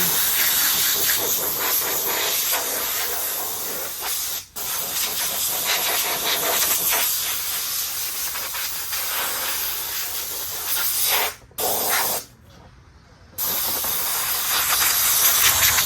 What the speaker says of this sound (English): Now what I'm gonna do is give a quick little clean up here with the air gun.